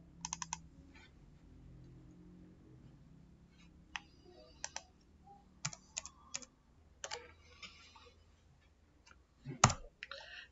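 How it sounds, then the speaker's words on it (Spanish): Mouse or keyboard clicks in a quiet room while coding a Visual Basic .NET form, a quick burst near the start, then scattered sharp clicks in pairs and singles, close and fairly faint, with a louder knock near the end. "lo que hacemos es darle doble clic al botón grabar"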